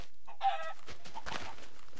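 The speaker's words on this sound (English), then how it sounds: "Whoa, chickens!" Chickens clucking in the video game Minecraft, one short clear cluck near the start followed by softer scattered game sounds, no talking.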